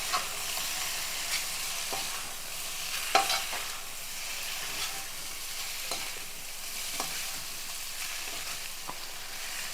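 A masala of tomato, onion and ginger-garlic paste with garam masala fries on high flame, giving a steady broadband sizzle with a few sharp scrapes and clicks of a stirring spoon, close by with no talk.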